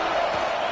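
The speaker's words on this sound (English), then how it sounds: "This crowd trying to do its part to get inside the kicker's head." Stadium crowd noise in the Madden 26 football video game during a field goal attempt, a steady roar of shouting and cheering fans, loud and continuous through a brief moment.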